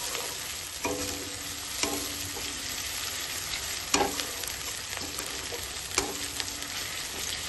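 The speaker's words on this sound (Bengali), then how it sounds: "পেঁয়াজগুলো আমি ভালো করে একটু নেড়ে চেড়ে ভেজে নেবো।" Onions sizzle and fry in a pan while a spoon stirs them, a steady crackling hiss broken by a few sharp scrapes and knocks against the pan.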